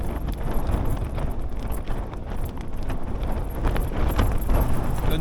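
Strong wind gusting to about 34 mph buffets the microphone at a cold wild camp in the Lake District, a dense, roaring rumble that swells and eases in gusts, loud and continuous with no voices.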